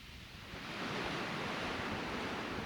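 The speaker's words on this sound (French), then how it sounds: "le bruit des vagues et le vent" Ocean waves roll in a steady rushing wash, mixed with wind, swelling slightly louder and then holding, with no voices.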